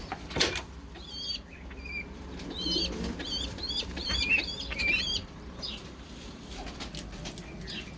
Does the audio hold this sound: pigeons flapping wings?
yes